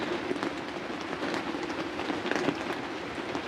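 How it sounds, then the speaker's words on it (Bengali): Light drizzle falls steadily on a rural homestead where goats are kept, a soft continuous patter and hiss that stays even throughout, with no voices. "এখন এই যে গুড়ি গুড়ি বৃষ্টি পড়তেছে"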